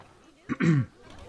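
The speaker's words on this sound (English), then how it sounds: "Excuse the cough again." A single short, throaty cough, a quick harsh burst with a brief catch before it, set against a quiet room.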